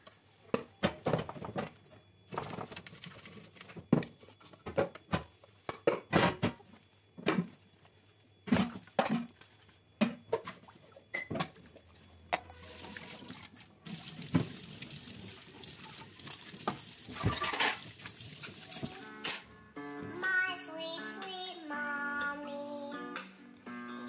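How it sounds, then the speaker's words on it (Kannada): Dishes, pots and vessels being washed by hand, with trickling water and scattered clinks and clatters of metal utensils, close by; music takes over toward the end. "ಕೆಳಗಡೆ ಪಾತ್ರೆ ತೊಳಿಬೇಕು ಪಾತ್ರೆ ತೊಳೆಯೋದು ತೋರಿಸ್ತೀನಿ"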